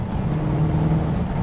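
A rare Plymouth Road Runner muscle car accelerates hard in third gear. Its engine gives a loud, steady, deep roar that holds close and strong for the whole short stretch, with no talk.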